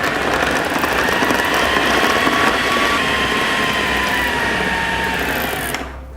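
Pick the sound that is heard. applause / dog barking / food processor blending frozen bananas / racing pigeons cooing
food processor blending frozen bananas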